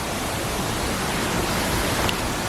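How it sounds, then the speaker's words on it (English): A small waterfall pours with a steady, dense hiss and rush, close and loud, without any break or voices over it. "so this is the little mini baby waterfall down here."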